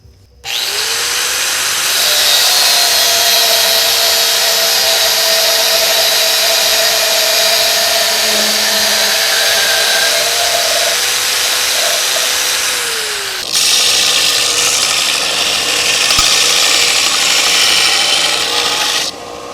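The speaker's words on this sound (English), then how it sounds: "And then I'll cut it using the angle grinder." An angle grinder cuts through metal in a blacksmith's workshop, a loud, close, sustained whine and rasp that holds steady for a long stretch, shifts pitch as the cut ends, then runs on more roughly with no talk.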